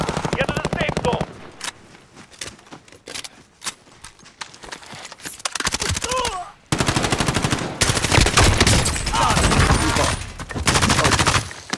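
Call of Duty Modern Warfare gunfire arrives as repeated rapid automatic bursts, loud and close, broken by short gaps, with shouted voices over the shooting.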